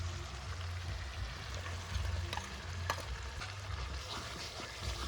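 Fried onions with turmeric, chili powder, salt and cumin paste sizzle in a pan for a village-style desi chicken curry, a dense steady frying crackle with occasional stirring scrapes and soft clatters, fairly quiet and close, without speech.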